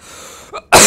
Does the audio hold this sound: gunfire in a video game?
no